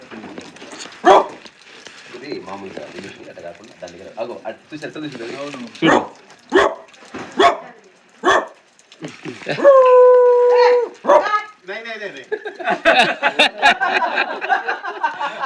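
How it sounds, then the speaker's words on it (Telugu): A dog howls and barks in short bursts, including a long wavering howl, over steady conversational talk. "జన్యుగా కుక్కలు అరుస్తాయి"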